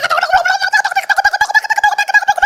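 A chicken squawks in alarm in a rapid, rhythmic stream of loud, close, harsh calls with no voices over it.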